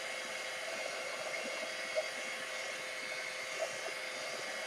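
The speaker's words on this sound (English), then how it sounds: "I've got the heat gun on." A heat gun runs steadily indoors, giving off a constant, fairly quiet airy whoosh with no change in pitch or level, joined by a couple of faint brief clicks.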